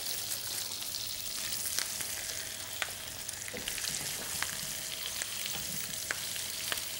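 Venison pieces searing in a hot pan, a quiet steady sizzle with scattered small pops and spatters, no talking.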